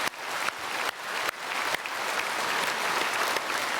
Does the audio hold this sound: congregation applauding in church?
yes